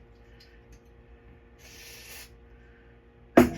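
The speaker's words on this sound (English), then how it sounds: "Spray all electrical connections." A short hiss of aerosol spray on the electrical connections of a 1993 Mazda Miata's Pioneer stereo sounds once over a quiet background, followed by a sharp clunk near the end.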